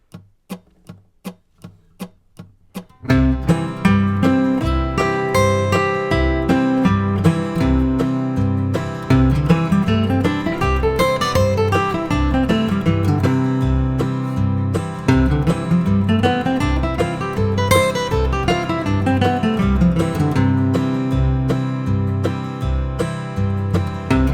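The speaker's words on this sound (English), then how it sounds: "let me play that along with the strum machine backing track." A plucked acoustic guitar runs up and down bluegrass CAGED-system scale patterns over a steady strummed acoustic backing track, after a few seconds of sparse rhythmic clicks at the start.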